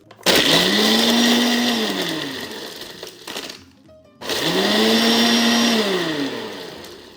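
A blender roars loudly while whirring a frozen caramel coffee drink with ice, running in two long bursts split by a short pause, the motor pitch sagging and rising as the frozen mix churns.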